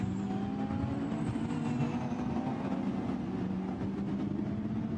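Lamborghini Super Trofeo race cars lap the Barcelona circuit on the final lap, a continuous steady engine roar with layered drone from several cars, moderately loud throughout without a distinct pass-by peak.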